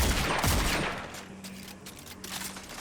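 Scout rifle firing in a multiplayer video game, a rapid burst of loud gunshots at the start followed by fainter shots and game noise.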